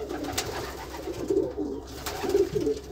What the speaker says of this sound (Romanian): Aici avem doi puișori din Cucul, cel mai bun reproducător pentru viteză de mifond